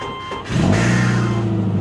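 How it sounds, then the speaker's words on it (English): An old Subaru's engine, apparently with a bad exhaust leak, comes in suddenly and loud after a quieter moment, settling into a steady droning idle with a strong low hum. "it sounds like it's got a crazy exhaust leak"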